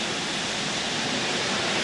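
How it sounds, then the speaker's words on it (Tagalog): Steady, dense hiss of heavy rain pouring down in the Philippines, constant and enveloping with no pauses or voices. "Heto na ang pinakaihintay na buhos ng ulan"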